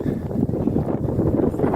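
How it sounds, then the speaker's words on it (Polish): Low, rumbling buffeting of wind hitting a microphone outdoors beside a camper van, constant and fluttering throughout, with no clear voices. "Wiatr wieje, więc może być nie słychać"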